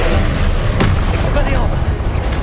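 Booming blasting-spell explosions in the Hogwarts Legacy video game, loud dense bursts with a sharp crack near the middle, layered over constant game noise and a talking voice.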